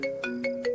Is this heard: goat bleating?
no